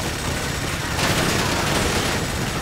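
Rapid sustained gunfire in GTA V around Los Santos, a dense continuous burst of shots growing slightly louder midway, with no talk over it.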